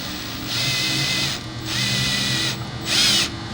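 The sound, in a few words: drill slowly turning a 10-24 tap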